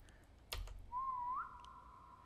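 A person whistles a single sustained, steady tone with a short upward bend in the Roblox game SCP 3008, set in an endless IKEA store after hours, preceded by a sharp click, heard alone and fairly faint.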